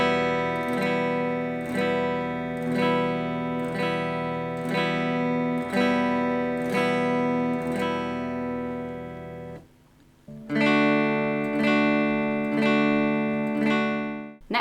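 Guitar chord strummed across all the strings in one fluid motion, ringing brightly and repeating in a steady series of full strums, then changing to a second chord shape that rings out loudly alone.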